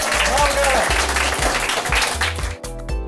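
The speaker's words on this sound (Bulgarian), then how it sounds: "моля бурни аплодисменти за шеф Галя!" Applause for a chef at a sushi tasting event, heard briefly and loudly beneath music and talk.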